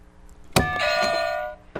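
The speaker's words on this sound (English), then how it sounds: "I heard the doorbell first" A doorbell chime rings out as a sound effect, a sharp struck onset followed by a ringing tone that holds for about a second before cutting off.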